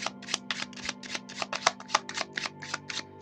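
Tarot cards shuffled by hand in a steady run of crisp riffling bursts, about a dozen quick flutters close up, with a faint steady hum underneath and no talking.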